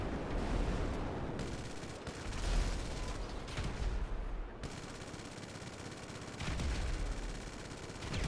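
Rapid automatic gunfire in a GTA Online match, dense bursts and volleys aimed at a van, loud and continuous with brief pauses between strings of shots.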